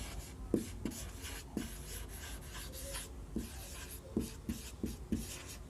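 Chalk or marker scratches and taps on a board in a classroom during a history lesson, with short strokes and clicks coming at irregular intervals, fairly close and quiet.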